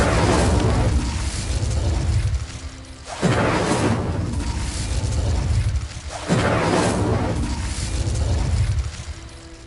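Incendio fire spell in Hogwarts Legacy on PS5 roars out in three loud, rumbling blasts about three seconds apart, each swelling with a whooshing burst and then tapering off.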